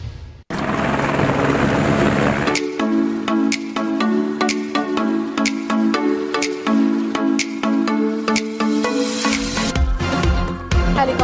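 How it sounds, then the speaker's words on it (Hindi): A helicopter flies over Dubai, its rotor thudding in a steady, rapid rhythm that stays loud and continuous throughout after a brief rushing start, with no speech. "हेलीकॉप्टर से दुबई का खूबसूरत नजारा।"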